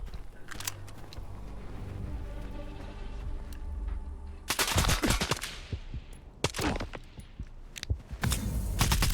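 Headshot hits landing in a first-person shooter video game, sharp chunky impacts amid bursts of rapid gunfire, loud and close with clustered repeated shots; no talking.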